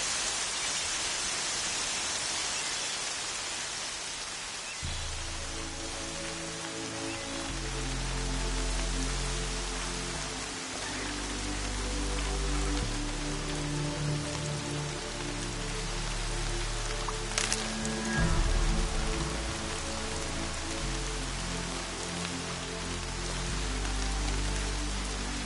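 Rain in Horizon Zero Dawn pours as a steady, hissing wash of drops across a dry landscape, continuous for the whole stretch, with low music swelling underneath after the first few seconds.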